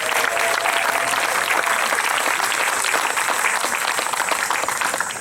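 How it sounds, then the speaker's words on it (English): A packed audience claps steadily for a singer after a performance at a singing competition, the dense applause holding loud and even for the whole stretch with no voices over it. "let's give Stephen a round of applause for a great performance"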